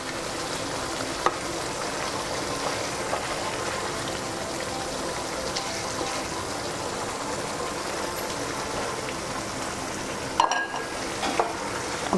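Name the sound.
egg prawn fry simmering and sizzling in a pan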